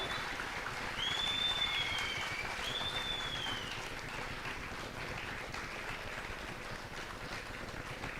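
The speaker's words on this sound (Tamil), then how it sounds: "கைத்தட்டல்கள் மூலம் நாம் பிறந்தநாள் வாழ்த்துக்களை தற்போது தெரிவித்துக் கொள்ளலாம்" A crowd applauds at a Tamil Nadu political gathering, offering birthday greetings to the Deputy Chief Minister. The clapping is dense and sustained for about eight seconds, with a couple of high whistles early on.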